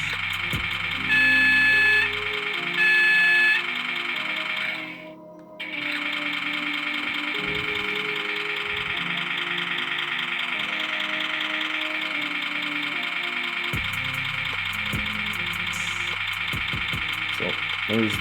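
A Loksound 5 sound decoder in a ScaleTrains GEVO model locomotive plays a steady diesel engine rumble with a sustained tonal drone, loud and close, holding throughout with a brief dip partway.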